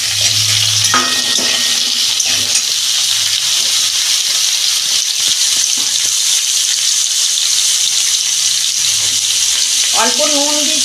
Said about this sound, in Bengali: ওই কড়াতেই আমি ঝিঙে আর আলু দিচ্ছি